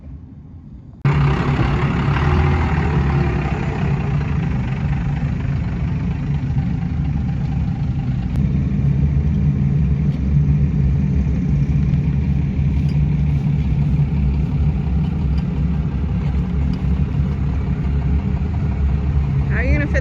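A car engine idles and then pulls out, a low steady engine rumble that holds close and loud throughout without a break after a short quiet start.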